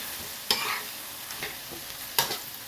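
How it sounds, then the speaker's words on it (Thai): Pork belly and lemongrass stir-fried in a pan, a soft continuous sizzle broken by three sharp scraping spatula strokes as the meat is turned, close and without voices. "ก็ผัดนะคะกลับไปกลับมาค่ะ"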